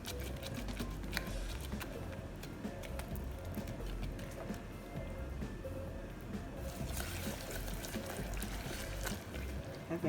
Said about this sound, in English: I'm just going to keep stirring this until I get the color